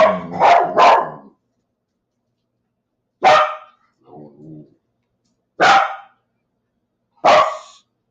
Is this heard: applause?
no